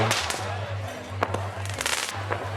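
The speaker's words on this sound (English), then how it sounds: "there's all this fireworks happening down the beach." Fireworks on a beach in Darwin crackle and pop in scattered sharp bursts at a distance, over a steady low hum.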